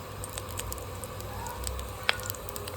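Rapid, irregular crackling and popping of mustard and cumin seeds spluttering in hot ghee, close up, with one sharper pop near the end.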